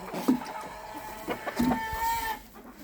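A bantam rooster crows close by in a farmyard, a strained drawn-out call rising and holding, with short clucks before it and the outdoor air of a cold morning.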